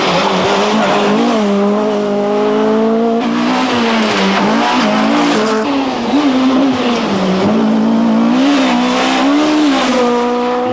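A 1995 Renault Clio Maxi rally car drives away under hard acceleration. The engine wails through rising gear pulls, with tire noise mixed in, and stays loud and steady for the whole stretch.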